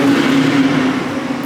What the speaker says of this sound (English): that was a loud car